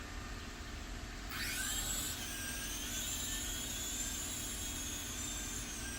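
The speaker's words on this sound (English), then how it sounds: "Alright, the rotor started turning." Syma S39H remote control helicopter spinning up its rotor, a faint steady whine that rises in pitch after a second and then holds a sustained high tone, with no talking.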